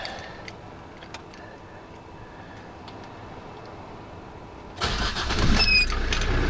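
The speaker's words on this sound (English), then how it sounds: "Discovery 2, TD5. Right, get it fired up." Quiet ticking and idle background give way to a Land Rover Discovery 2 TD5 diesel engine cranking and catching, rising into a louder, rough running rumble near the end.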